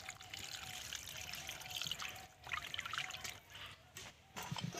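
Water being poured onto salted, lemon-dressed chicken pieces for pakora, a faint continuous trickle and splash close by.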